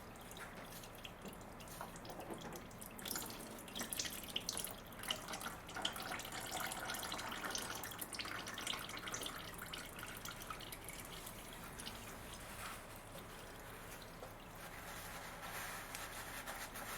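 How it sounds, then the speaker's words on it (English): Engine oil drips steadily from a loosened oil filter housing on a 2014 Nissan Note, a continuous close trickle and patter of liquid with no talking. "We're gonna get oil dripping out of there as well."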